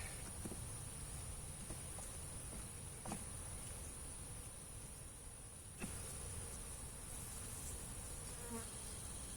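Dense, steady buzzing of many honeybees close by at a hive, continuous throughout with a few faint clicks and taps, no voices.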